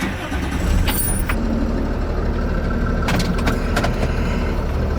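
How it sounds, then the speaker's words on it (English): A truck engine cranks and catches, then settles into a steady idle with rumbling as it moves off, near and fairly loud, with a few sharp clunks and knocks partway through. "I need to move this truck."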